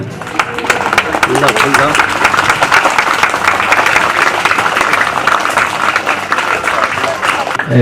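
A village crowd at a BSF civic action programme breaks into sustained applause, loud dense clapping lasting several seconds, with an announcer's voice over it.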